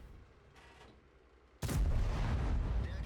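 A single heavy tank cannon blast in World of Tanks booms out suddenly, followed by a loud, rumbling roar that lingers to the end.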